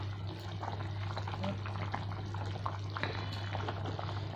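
A pot of Bengali fish curry (maacher jhol) simmers and bubbles in a soft, steady burble over a constant low electrical hum, with faint kitchen clatter.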